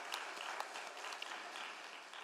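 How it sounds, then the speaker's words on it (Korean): A church congregation applauds newly baptized members at a Sunday service, producing a steady wash of many hands clapping together. The applause is moderately distant and fairly soft, continuous throughout with a few sharper individual claps. "우리 한 식구 되었다고 박수로 또 이렇게 축복해 주셨으면 좋겠어요"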